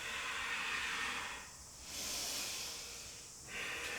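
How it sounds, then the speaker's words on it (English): Ujjayi ocean breathing during a yoga flow, slow, loud hissing breaths close to the mic, two long airy strokes separated by brief quieter gaps, with no talking. "Using your breath, if you've got that ocean breathing coming into that ujjayi breath."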